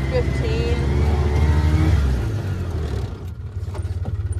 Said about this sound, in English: Like, Paul, I'm gonna do a brake demonstration here in a second, so hold on